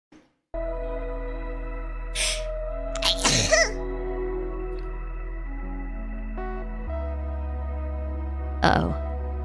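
Over steady background music, a VTuber gives a few loud, close sneeze bursts, one forceful spluttering burst in the middle and another brief one near the end.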